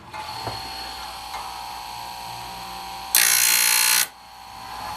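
A clamp is tightened on a chainsaw chain sharpening machine, with a few soft mechanical clicks over a steady hum, then a loud, brief harsh burst of grinding.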